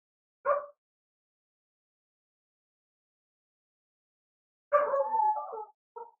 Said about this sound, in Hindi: एक कुत्ता आ गया भाई पीछे और वो भौंक रहा है, मान नहीं रहा